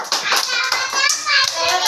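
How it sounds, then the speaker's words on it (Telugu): Children clapping for the winners of a ball game, a dense burst of many small hands clapping together at close range, with children's voices and an adult speaking over it. "Clap clap."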